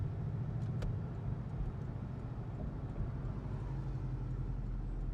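A Porsche Cayman 718 mid-engined sports car idles with a steady, low engine rumble that holds close and even throughout, with no talk over it.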